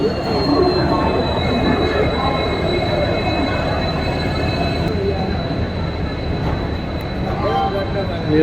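Haldibari Tourist Express train rolling through NJP station, a loud, steady rumble of wheels with a sustained high metallic squeal above it.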